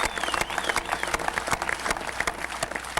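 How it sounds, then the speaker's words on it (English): Applause from an audience at a summer 2000 sit-down strike commemoration ceremony, steady dense clapping filling the clip with scattered louder claps throughout, sustained and fairly close. "I think they deserve a round of applause"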